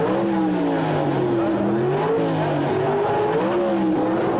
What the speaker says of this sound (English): Leaving right on the green, the Chevy Camaro building up a lead over the hard-charging Corvette of Larry Kopp